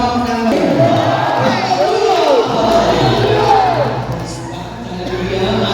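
Cheering and shouting from a crowd at a large El Shaddai 36th anniversary religious gathering in Makati, a continuous loud roar of many voices with some clapping mixed in throughout.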